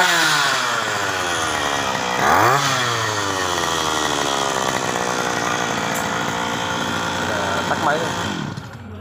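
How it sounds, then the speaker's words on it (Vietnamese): A mini 23cc chainsaw engine runs continuously, revving up sharply once near the start and again near the end, loud and close, its buzzing whine dominating throughout. "Bây giờ mình test cái đầu phát cưa này, cái đầu máy cưa này thứ nó nổ như thế nào nha các bạn."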